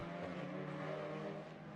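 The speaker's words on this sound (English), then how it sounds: "Just enjoy listening to the sounds of these cars," TC America TCR/TCA race car engines at St. Petersburg snarl and rumble continuously at a distance, a throaty mechanical roar with no voices.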